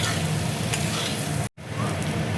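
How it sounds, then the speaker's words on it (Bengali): Taro pieces fry in a pan for an achaari kochu dum, a loud continuous sizzle and crackle with a brief silent cut partway through. "কচুটা দেখো ভালো করে আমি ভেজে নেব।"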